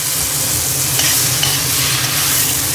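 Vinegar hitting beef shin in a hot pan produces a loud, dense, continuous sizzle with a faint stirring scrape, steady and close throughout.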